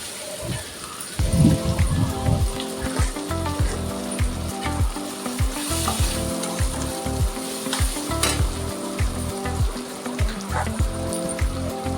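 A paste of ginger, garlic and green chili fries in a pan with turmeric and spice, sizzling steadily while a spoon scrapes and stirs it in a regular, clinking rhythm.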